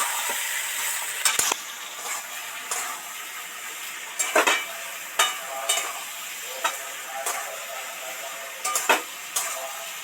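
Spices with turmeric being stirred into vegetables in a frying pan for Bengali shukto: a continuous soft sizzle of hot oil, broken by intermittent scraping clacks of a spatula against the pan at irregular intervals.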